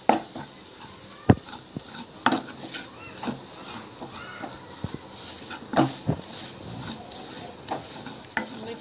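Gram flour stirred and roasted in a pan for a Maharashtrian palak gargatta, with soft scraping, light sizzling and the occasional clink of a spoon against the pan, steady and close with no talk.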